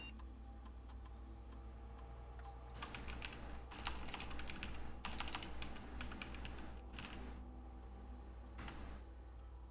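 Typing on a computer keyboard while a security login is handled in the Blue Prince game, a steady patter of key clicks with denser bursts in the middle, moderately near over a low background hum.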